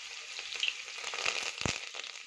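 Cumin seeds, finely chopped onion and curry leaves fry in oil inside a pressure cooker for mixed-dal khichdi, making a bright, continuous crackling sizzle with a few louder pops, close and alone.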